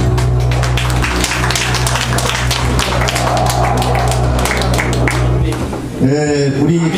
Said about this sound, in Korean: 박수 한번 쳐주시면 됩니다